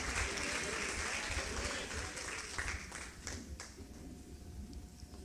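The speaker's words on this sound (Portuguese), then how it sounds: "Pode aplaudir a palavra de Deus." A church congregation applauds during a sermon, a dense, roomy wash of clapping that stays fairly quiet and tapers slightly, with a faint voice in the background.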